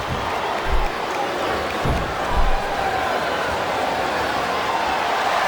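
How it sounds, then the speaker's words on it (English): In the WWE SmackDown vs. Raw 2007 video game, a wrestling-match crowd keeps up a continuous roar of cheering, with a few brief louder swells and thuds rising over the steady noise. "I think these superstars are getting some feedback from the crowd, JR."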